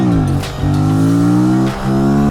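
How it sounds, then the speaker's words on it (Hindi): An Aprilia RS457 motorcycle engine revs steadily and loudly at close range, its harmonic drone holding through brief dips in pitch, with no one talking. "मेंटेन करते ही थोड़ा रेव लेके"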